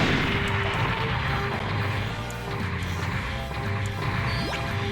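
Mobile suits exploding in the Gundam Federation vs Zeon video game, with repeated crashing, booming blasts over a dense continuous bed of game sound effects, no talking.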